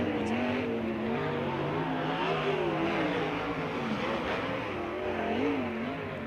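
Sprint cars race around the Lawrenceburg dirt track during USAC Indiana Sprint Week, a steady droning, revving engine roar heard from a moderate distance without a break.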